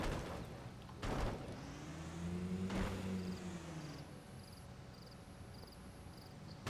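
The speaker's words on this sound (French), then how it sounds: "On est en train de faire une manœuvre désespérée pour débloquer la voiture." A car in the fishing game Call of the Wild: The Angler strains to get unstuck, its engine tone rising and falling through a muffled rumble, with a couple of sharp knocks.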